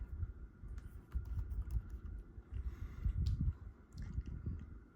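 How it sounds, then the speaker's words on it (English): A computer keyboard being typed on to enter a word in Tinkercad design software, with quick, irregular key clicks close by at a fairly quiet level and no talking. "And then I can just type in the word that I wanted."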